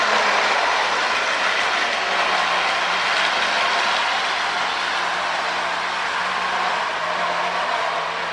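A Lionel Alco Rio Grande model train with a rebuilt one-way motor runs steadily around its track, a continuous close mechanical whir and rumble with faint rhythmic clatter, no voices.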